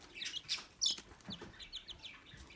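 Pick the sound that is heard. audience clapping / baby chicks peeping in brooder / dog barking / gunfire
baby chicks peeping in brooder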